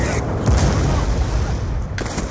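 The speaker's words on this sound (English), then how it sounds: "Friendly Hellstorm missiles inbound." Heavy, rumbling booms from Hellstorm missile strikes in Call of Duty: Ghosts, a dense low roar with sharper blasts, and voices speaking over the din.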